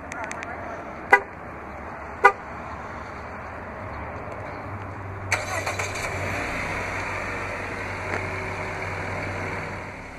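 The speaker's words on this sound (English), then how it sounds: "To operate is easy, just double press the remote start button on the key fob." A 2016 Jeep Renegade Limited 4X2 starting by key fob remote start: two sharp short chirps, then the engine cranks and catches into a steady nearby idle, with a voice talking over it.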